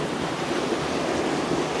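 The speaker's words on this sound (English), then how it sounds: "When the water is retracting from the pebbles, amazing." Waves wash over round, shiny pebbles on a beach along South Africa's Garden Route, a steady, close rushing hiss that holds without a break.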